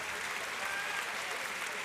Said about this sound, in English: The people are applauding.